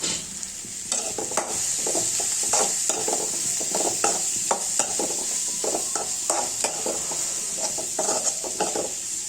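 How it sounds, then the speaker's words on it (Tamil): Athalakkai gourd sautéing in a pan with onion and green chilli: a steady sizzle under repeated stirring strokes and scrapes of the spoon against the pan, close and even, with no voices. "அப்புறமா வெட்டி வச்ச வெங்காயமும் பச்சை மிளகாயும் சேர்த்துக்கணும். வெங்காயம் பாதி வதங்கினதும் மறுபடியும் இந்த அதலக்காயை அதோட சேர்த்துக்கலாம்."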